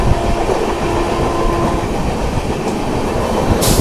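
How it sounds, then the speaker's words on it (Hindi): An Amrit Bharat Express train overtaking the Jalandhar Intercity, a loud, steady rumble of rolling wagons and rail noise heard up close, with no talk. "ये देखो ओवरटेक मार दिया भाई, जलंधर इंटरसिटी को ओवरटेक बढ़ गया भाई।"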